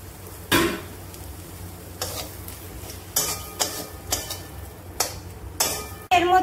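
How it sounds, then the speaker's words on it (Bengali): Ground fried chickpeas go into a pan for a chickpea and potato dal and get stirred. A spoon scrapes and clatters against the pan in separate sharp bursts over a low, steady background. "এই যে ভাজা ছোলাটা পিষে রেখেছি এটা এবার দিয়ে দিলাম এর মধ্যে।"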